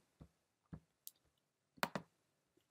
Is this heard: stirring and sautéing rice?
no